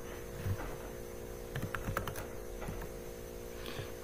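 Keys clicking on a computer keyboard during code typing, in short irregular bursts of quiet taps over a faint steady hum, with no voice.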